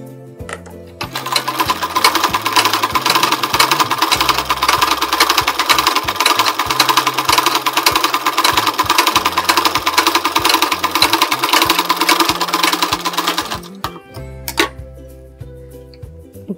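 A sewing machine stitches blouse fabric in one continuous, fast, loud mechanical run of about thirteen seconds, stopping abruptly near the end, followed by a single sharp click.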